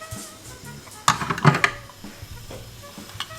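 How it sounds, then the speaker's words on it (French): Bell peppers just added to a hot pan at home, a soft sizzle under clinks of utensils and a few brief pan knocks and stirring sounds, fairly close with no talk. "je viens de lancer du coup les poivrons en cuisson"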